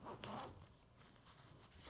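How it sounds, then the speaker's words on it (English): A zipper on a OneTigris Coco Nest solo hot tent pulled during setup, a short quiet rasping zip near the start followed by softer fabric rustling, faint and close. "This zipper gets stuck for some reason."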